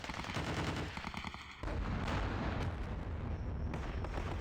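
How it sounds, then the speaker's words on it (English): Artillery counter-battery fire in the World War II strategy game Panzer Battles, rapid rattling gunfire and booming blasts in a loud, continuous barrage with no pauses. "these random artillery counter battery fires will come in as well"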